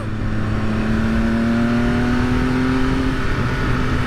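A 2020 Triumph Speed Triple RS three-cylinder engine pulls hard under way, a loud continuous drone with its pitch rising steadily as it accelerates, heavy wind rush underneath.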